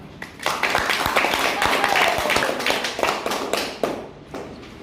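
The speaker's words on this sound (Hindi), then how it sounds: "ये अपने आप के लिए ताली बजा दो एक बार।" Young students in a class clapping for themselves, a burst of sharp, close handclaps that builds quickly, stays busy and lively, then thins out, with some voices mixed in.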